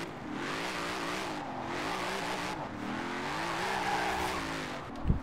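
Engine of a Deberti Design Mustang in Forza Horizon 4 revs hard and sustained, pitch rising and falling through gear changes as the tires squeal and skid around corners, loud and continuous with no talking.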